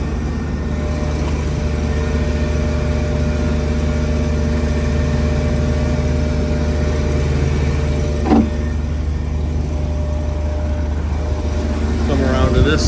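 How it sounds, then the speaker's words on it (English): The engine of a forestry bucket truck runs with the hood open, a steady, loud, close idling drone with constant rumble and one brief knock partway through. "I'm gonna open the hood and let you see the motor operating here."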